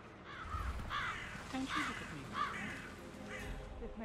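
Crows caw in the video game Hitman 3, set in Dartmoor, with a few spaced, moderately near calls over a quiet outdoor ambience as someone talks quietly.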